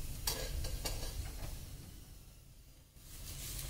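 A broccoli-stuffed paratha cooks in ghee on a hot pan, giving a soft, continuous sizzle close by that dips briefly and then swells again, with no voices.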